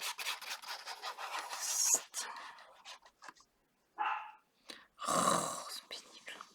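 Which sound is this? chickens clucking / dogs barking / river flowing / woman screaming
dogs barking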